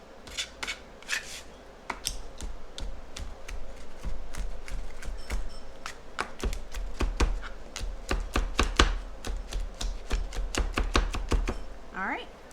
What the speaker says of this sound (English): that is our garlic, all minced and ready